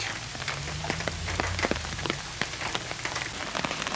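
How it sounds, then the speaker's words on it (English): Steady rain patters on a hard surface, with dense overlapping drops and scattered sharper plinks close by; no voices. "The rain is starting to come down"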